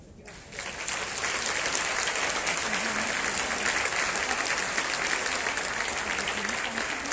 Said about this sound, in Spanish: fuerte aplauso a la doctora